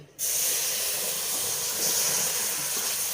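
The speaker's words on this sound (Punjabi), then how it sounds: "ਹੁਣ ਆਪਾਂ ਇਹਦੇ ਵਿੱਚ ਇਹ ਦੁੱਧ ਪਾ ਦੇਾਂਗੇ" Milk poured into a hot pan while making modak mixture from besan and semolina, an abrupt loud sizzling hiss that starts suddenly and holds steady, close and alone.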